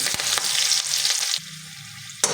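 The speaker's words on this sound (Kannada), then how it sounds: "ಇದನ್ನು ಅಷ್ಟೇ ಚೆನ್ನಾಗಿ ಫ್ರೈ ಮಾಡ್ಕೊಂಡು ತೆಕ್ಕೊಳ್ಳಿ." Long-cut green chillies fry in hot oil, a loud close sizzle with a brief stir clatter and an abrupt quieter stretch partway through.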